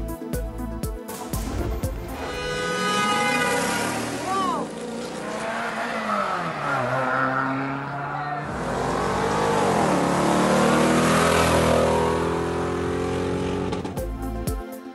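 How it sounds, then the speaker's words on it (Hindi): Jeeps race over rough desert tracks in the Cholistan Jeep Rally, engines revving and rising in pitch as they pass close by, with loud roars swelling and fading over about fifteen seconds. "और धूल उड़ाती जीप्स मुश्किल रास्तों से होती हुई मंजिल की जानिब रवां दवां। चोलिस्तान जीप रैली का फाइनल राउंड जारी।"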